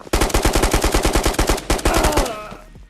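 Rapid automatic gunfire in the VR shooter Ghosts of Tabor, a loud close burst of about twenty evenly spaced shots that ends in a short ringing tail.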